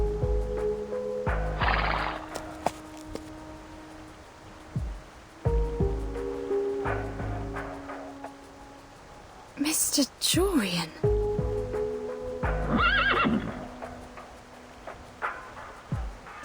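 Horses whinny and neigh several times in Reverse 1999, over a steady synthetic game-like drone, with someone briefly speaking in between.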